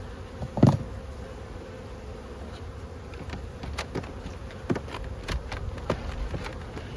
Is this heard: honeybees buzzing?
yes